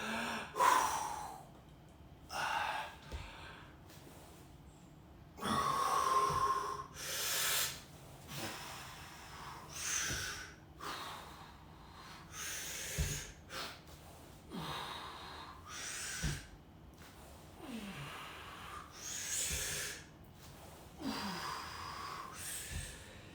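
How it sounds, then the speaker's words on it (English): Heavy, rhythmic breaths during a no-equipment bodyweight workout, a steady series of forceful inhales and exhales with snorting gasps, close and fairly loud with no talking. "Really make sure you're breathing. Big breaths in."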